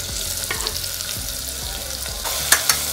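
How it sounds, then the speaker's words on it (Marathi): Finely chopped large onion fries in oil with a dense, continuous sizzle, while a spatula scrapes and taps the pan a few times, most sharply near the end. "कांदा तेलावर कलर बदलेपर्यंत परतवून घ्यायचा।"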